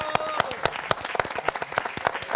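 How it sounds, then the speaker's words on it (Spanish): A television studio audience applauds on a Spanish talk show, with many hands clapping in a close, continuous patter that stays lively from start to finish. "Un aplauso de nuevo"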